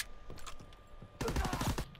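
Gunfire in the WWII shooter Call of Duty: WWII, a few scattered shots at first, then a dense, loud burst of rapid automatic fire in the second half.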